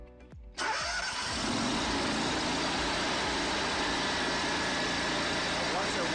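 A portable generator engine is pull-started with the choke out, catching after a couple of quick tugs and then settling into a loud, steady running drone close by.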